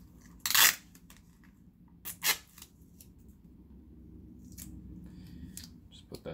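Scissors snip through tape twice, in short crisp bursts close by, during a partial teardown to fix the wobbling screen of a Sony α7S III camera, with a faint low background hum between cuts.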